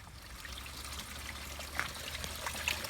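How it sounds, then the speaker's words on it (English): Coolant trickles and streams steadily out of a Corvette C4 radiator during a forceful flush, a soft continuous liquid flow under a low rumble with a couple of faint splashes. "It's already pushing some out of the radiator though"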